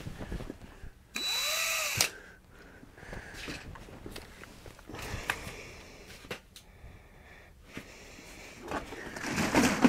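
A power drill with a paint stirrer attachment whirs in a short burst while mixing winter sugar feed for bee hives, then intermittent rattling and tool handling follow, with a louder mechanical whine building near the end.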